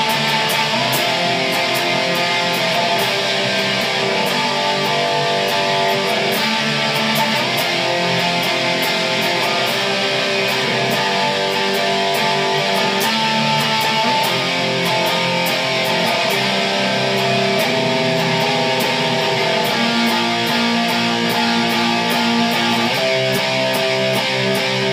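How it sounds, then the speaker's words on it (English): Electric guitar playing the bridge of a song, with sustained power chords and shifting tones ringing steadily and fairly loud throughout, no talking. "Then we get to the bridge, which is going to sound something like this."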